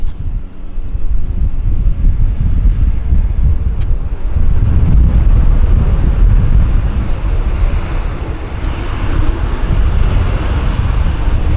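A WestJet Boeing airliner rolls slowly past close by at an airport, a loud, steady jet rumble with heavy wind buffeting on the microphone throughout.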